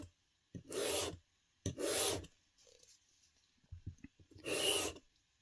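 A file rasps across the metal blade of a Yuka Mini in three distinct strokes, each a loud, gritty scrape with quiet pauses and small clicks between them.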